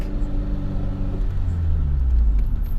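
A 1989 Honda Prelude engine runs steadily at idle, a continuous low rumble with a faint ticking fault, close and loud throughout with no talk.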